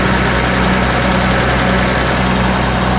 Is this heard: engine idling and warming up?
yes